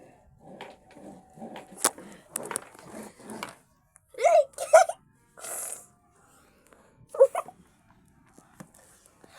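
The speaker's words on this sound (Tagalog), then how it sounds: "Aso talaga yan." A dog whimpers and yips in short, high-pitched bursts between quiet pauses, close by in a quiet room, with people talking softly at the start.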